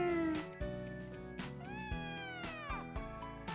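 A cat meows repeatedly in the visual novel Hoshi Ori Yume Mirai, its rising and falling mews clear and upfront over layered background music.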